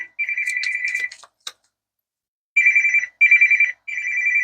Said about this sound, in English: See, the way this phone has been ringing